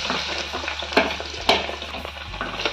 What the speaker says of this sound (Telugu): ఆయిల్లో ఇలా 2 సైడ్స్ బాగా ఫ్రై చేసుకోవాలి బ్రెడ్ని